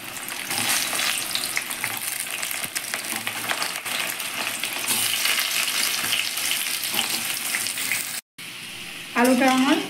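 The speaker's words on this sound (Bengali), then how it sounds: "ভালো করে আলুটা ভেজে নেব।" Boiled potatoes fry in hot oil for a homemade chicken biryani, giving a loud, continuous crackling sizzle that drops out briefly near the end before resuming, with a voice heard faintly at the close.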